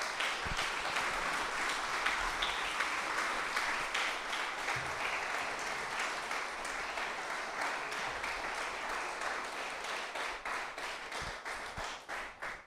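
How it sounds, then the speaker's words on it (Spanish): A church congregation claps loudly and continuously after a Spanish-language sermon, filling the whole stretch with dense applause that thins slightly into scattered claps near the end. "Dale un fuerte aplauso al Señor"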